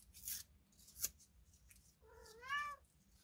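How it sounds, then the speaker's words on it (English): A house cat gives one clear, rising-and-falling meow late in the moment, following a couple of brief crafting clicks and rustles in a quiet room while galvanized metal plaque work goes on. "Oh, that's one of my kitties."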